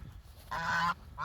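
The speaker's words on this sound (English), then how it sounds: "you can see how the geese scream at me when I come to the field" Geese honk and scream in a field, two loud bursts of harsh, nasal calling close by, with a short gap of quieter ambient sound between them.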